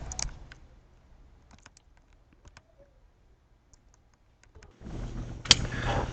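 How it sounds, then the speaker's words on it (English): Sparse clicks of typing on a computer keyboard while writing a Python program, quiet and scattered, followed by a louder rush of handling noise near the end. "we're going to go ahead and continue typing in our program"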